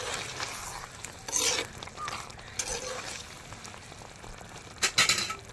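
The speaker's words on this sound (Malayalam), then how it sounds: "നന്നായിട്ട് ഇളക്കി യോജിപ്പിക്കാം." Food with salt being stirred in a pan, with soft intermittent scraping and a gentle sizzle, louder bursts near the start and the end.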